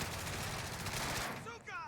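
Rapid, dense gunfire in the Call of Duty Warzone battle royale video game fills the clip as continuous automatic bursts, then cuts out near the end, where a voice briefly speaks.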